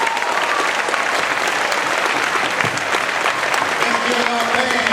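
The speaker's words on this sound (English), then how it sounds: "Give yourselves a round of applause" A dense, sustained round of applause from a school audience at a Veteran's Day program, loud and steady for the whole stretch, with a voice faintly audible beneath the clapping.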